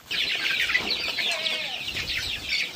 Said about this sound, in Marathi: पिल्लांना खाद्य आता दिले जात आहे।